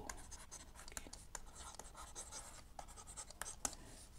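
A pen scratches across paper in quick, faint strokes and taps, irregular and close, as set and function math problems are written out during a lesson, with a teacher's voice softly present.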